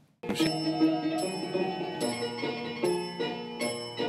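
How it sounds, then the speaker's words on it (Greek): A small bell strikes on a steady repeating beat inside a barrel organ (laterna) tune. Roughly five bright, ringing hits land over the sustained, droning organ chords. "Το καμπανάκι δίνει το ρυθμό της επανάληψης συνήθως"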